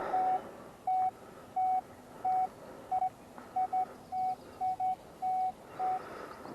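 A metal detector's steady electronic signal tone beeps in short repeated pulses, about a dozen over several seconds, over faint background hiss; some beeps come in quick pairs.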